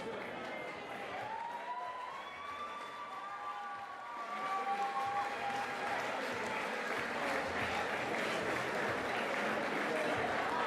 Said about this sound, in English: a big round of applause for Iain Switchblade